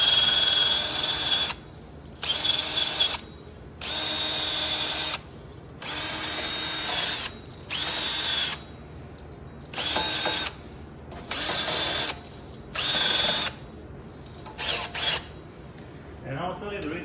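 A wire rotary brush on a Ryobi drill scrubs rust off the front brake hubs of a Kia Optima or Hyundai Sonata in about eight close, loud, whirring bursts of a second or so each, separated by short pauses.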